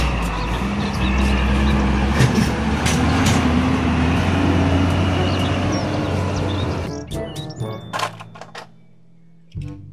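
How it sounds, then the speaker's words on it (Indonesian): A big oil tanker truck engine drones loudly and steadily for several seconds, then drops away, leaving a few scattered clicks and a brief low hum. "Mobil truk tangki minyak."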